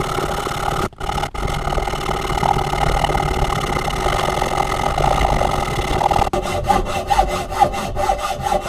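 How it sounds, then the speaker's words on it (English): A metal pipe cut with a hacksaw is deburred on a powered wheel, giving a loud continuous abrasive grinding whir with steady motor drone that runs almost unbroken, with a few brief dips and pulsing contact near the end. "I'm going to run it on this metal wheel, and to make sure the threads go on."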